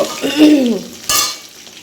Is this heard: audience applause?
no